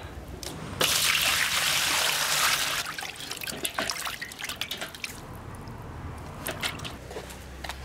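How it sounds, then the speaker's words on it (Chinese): Water splashing and dripping as pigeons are washed for cooking, a loud running pour at first, then scattered drips and trickles. "给它洗干净一下"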